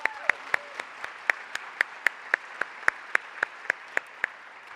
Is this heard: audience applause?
yes